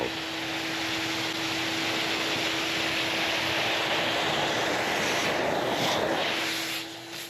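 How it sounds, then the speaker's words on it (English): A shop vac runs steadily for cleanup in a woodshop under construction, a continuous loud whooshing drone with a steady tonal hum before it winds down at the end. "Bring the shop vac over here, get this cleaned up"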